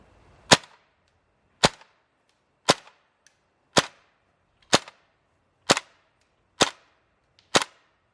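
A GHK AK-74M airsoft rifle fires eight sharp single shots on semi-auto, evenly spaced about a second apart, each a crisp, close crack with no talk.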